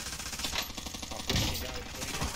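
Rapid bursts of automatic gunfire in a multiplayer shooter video game, a dense rattle of shots with a heavier thump midway, fairly close and continuous throughout.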